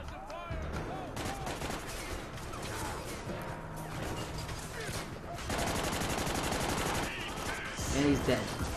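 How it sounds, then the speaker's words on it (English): Gunfire in the co-op shooter Army of Two: The 40th Day, sustained bursts of automatic fire and crashing hits at close range, with players talking over the shooting. "There's still dudes shooting at us."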